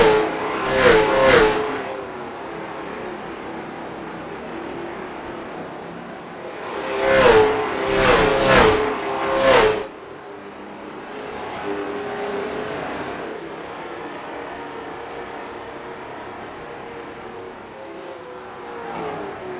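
Race cars in a Carolina Crown Series race sweep down the backstretch in two bursts, first a single pass and later a tight group roaring by, engine whine rising and falling over a quieter background hum.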